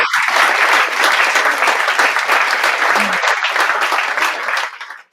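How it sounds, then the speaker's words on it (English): A studio audience breaks into loud, steady applause, a dense wash of clapping that holds evenly for several seconds before cutting off abruptly at the end. "they were waiting to clap"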